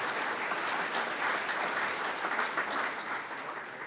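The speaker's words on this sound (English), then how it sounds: "Let's give them a big round of applause." Rotary club meeting audience gives a round of applause, steady many-handed clapping in a room, moderately quiet and continuous, tapering slightly toward the end.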